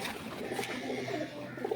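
Pigeons soft-cooing inside a rooftop coop at a pigeon club, faint and low, with murmured voices in the background.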